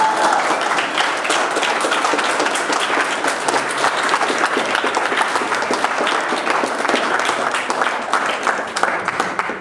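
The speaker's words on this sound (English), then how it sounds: "one more round of applause" Sustained applause from a concert audience at an arts center after a performance, dense, steady clapping filling the whole stretch at close, even loudness with no voices over it.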